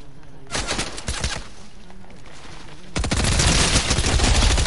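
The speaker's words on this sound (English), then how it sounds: "Who's shooting at me?" Gunfire in the video game Fortnite: bursts of rapid shots, then a denser, louder sustained barrage in the second half, close and dominant, with a voice faintly underneath.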